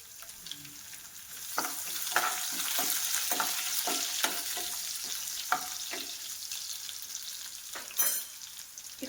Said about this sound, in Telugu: ఇప్పుడు వచ్చేసి నెక్స్ట్ వెల్లుల్లిపాయలు వేసుకుందాం. కొంచెం ఫ్రై అయిన తర్వాత